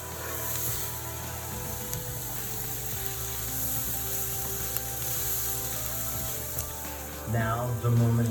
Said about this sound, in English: We're going to cook this for about 3 minutes until the onions get nice and tender and just a little bit caramelized